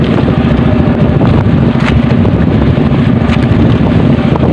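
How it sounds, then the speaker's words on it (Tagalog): Strong northeast monsoon wind at sea roars steadily, a dense rushing buffet that batters the microphone continuously, loud and close, with no voices. "medyo malakas si hangin amihan"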